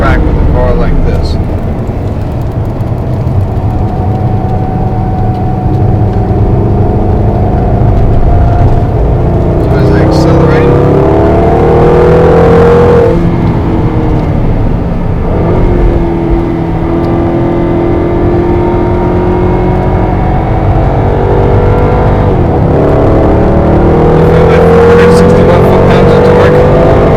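A 2011 Jaguar XKR on a race track roars loudly and continuously, its engine pitch climbing through several accelerations with brief drops between gear changes.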